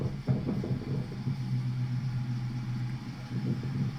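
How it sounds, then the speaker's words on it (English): A car pulls out with a low, steady engine rumble that stays close and even throughout, with no voices over it. "But here the car is pulling out."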